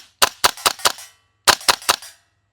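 A Classic Army URGI MK16 gas blowback airsoft rifle fires on semi-auto: seven loud, sharp, close shots in two quick bursts of four and three, with a short pause between.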